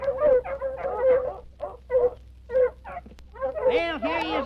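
A voice imitates coon hunting dogs, letting out a run of yelping bark-like calls that end in drawn-out, wavering howls, loud and close with a steady low hum underneath.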